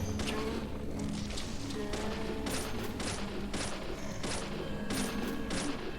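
Repeated gunshots from the video game Deadly Premonition crack out in an irregular burst of about eight sharp reports over a dense, busy game backdrop.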